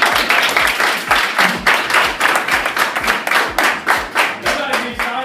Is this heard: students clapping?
yes